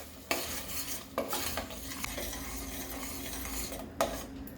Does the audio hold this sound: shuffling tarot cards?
no